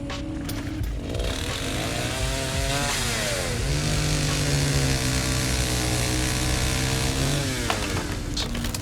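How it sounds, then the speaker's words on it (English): A chainsaw wielded by a psycho enemy in the indie survival horror game Nightmare of Decay drones continuously, its engine pitch rising and falling as it revs, loud and close throughout. "A chainsaw psycho that one hit kills."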